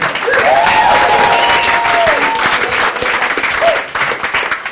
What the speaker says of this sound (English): Make some extra noise for Christina Van Look.